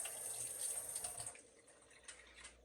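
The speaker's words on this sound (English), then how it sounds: "Let me rinse my hands off." Hands rinsed under a running tap, a steady broadband rush of water that is loud for the first second and a half, then thins to softer splashes and trickles. No one speaks.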